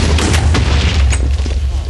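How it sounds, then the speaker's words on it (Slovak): A TNT explosion in Minecraft sets off a loud, deep blast with rumbling booms and crackling bursts that continue for the whole moment. "Začať explóziu."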